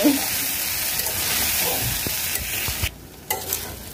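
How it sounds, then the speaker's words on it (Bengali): Noodles cooking in a pan with several sauces, biryani style, giving a loud steady sizzle and hiss with stirring scrapes, which briefly drops away near the end before resuming. "এই যে নুডলসটা কিন্তু বিরিয়ানি স্টাইলে রান্না হচ্ছে"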